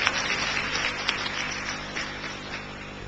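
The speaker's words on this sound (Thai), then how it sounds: "ขอเสียงปรบมือต้อนรับหมายเลข4ครับนางสาวกอบกุลยาจึงประเสริฐศรีครับ" Steady applause from a crowd welcoming a contestant onto a stage, moderately loud and even, continuing throughout without speech.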